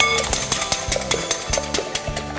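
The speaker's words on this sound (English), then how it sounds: "and give it a quick whisk" Eggs, three of them, whisked by hand in a bowl for a muffin batter, giving a quick run of rapid, close metallic clicks and taps with no one talking.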